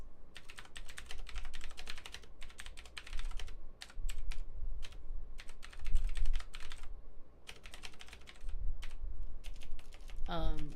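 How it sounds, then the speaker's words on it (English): Rapid bursts of typing on a computer keyboard, clattering keystrokes in clusters separated by short pauses, close and fairly quiet, with a low background hum. "I'm gonna type that in here"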